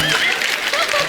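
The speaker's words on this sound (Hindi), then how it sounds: "जोरदार तालियां हो जाए अक्षय कुमार जी के लिए" A studio audience on a Hindi television comedy talk show breaks into applause, a dense, steady wash of clapping at moderate loudness that is briefly mixed with voices.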